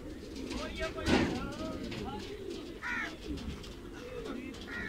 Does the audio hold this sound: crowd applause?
no